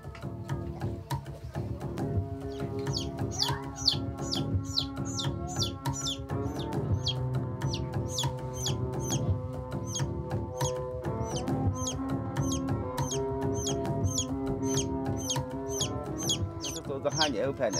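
A chick cheeps rapidly and repeatedly during an Akha shaman ritual in Laos, offered as a sacrifice, its high peeps running steadily throughout over a dense bed of voices and low background activity.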